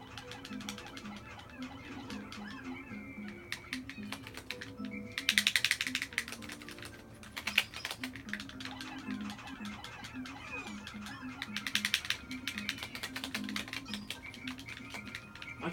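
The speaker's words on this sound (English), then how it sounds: "I just like the buttons of the GameCube. It's so clicky." Plastic GameCube controller buttons clicking while Pikmin is played, a steady run of light, crisp taps with brief louder bursts of rapid presses, close by with game sounds underneath.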